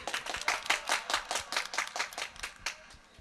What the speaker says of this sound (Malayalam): ഈ മാഡത്തിന് നല്ലൊരു കയ്യടി കൊടുക്കും.